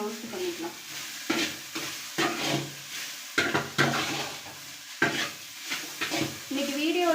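Egg and okra sizzle and fry in a little oil in a pan, with repeated stirring scrapes breaking up the steady crackle in uneven bursts.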